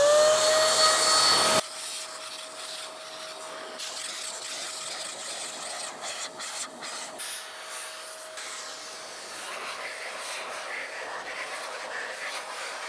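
An Adams Air Cannon Jr air blower runs loud at first while drying a car, then drops to a steady, quieter rushing whoosh that carries on with small fluctuations and a faint tonal whine.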